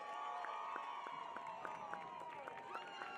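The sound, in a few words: crowd cheering for the Tufts Cheer Squad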